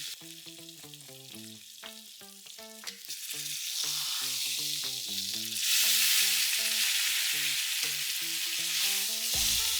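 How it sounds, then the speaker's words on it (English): Steak sears in a hot cast iron pan, a loud, close, continuous sizzle that swells partway through, while a bright rhythmic tune plays throughout. "And the sizzle."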